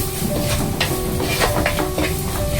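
Crab roast masala with Kashmiri chilli powder and pepper is stirred in a pan. A continuous close sizzle runs under repeated scraping strokes of a spoon, with a faint steady hum in the background.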